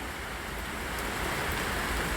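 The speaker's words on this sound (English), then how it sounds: "We've just been dealing with rain right now." Heavy rain pours outdoors during a hurricane in Pennsylvania, a loud, unbroken hiss of water that stays constant, with no wind gusts or voices standing out.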